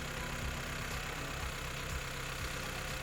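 A Yanmar YM series tractor engine idles steadily with a low, even rumble and faint regular knocking pulses, moderately quiet and continuous throughout with no talking.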